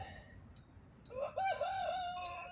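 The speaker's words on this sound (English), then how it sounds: "it's a chicken, it's a rooster." A rooster crows once, loud and fairly near, its call rising then holding a long wavering note over faint background noise.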